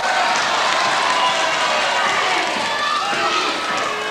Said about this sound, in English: The crowd shouting easy